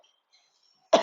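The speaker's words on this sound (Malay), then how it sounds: "sorry, dah batuk dah saya" A single short, sharp cough from a maths teacher during a lesson, bursting out of near silence right at the end.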